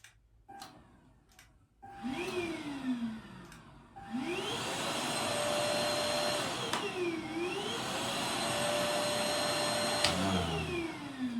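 An HF1 Flexi cordless vacuum cleaner whirs up close in eco mode, steadily running while its motor pitch slides down and back up as it shifts speed.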